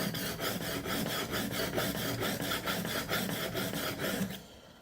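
A knife blade is pushed repeatedly across a sharpening stone toward the edge to raise a burr, giving a close, steady gritty rasping made of regular back-and-forth strokes that stop near the end.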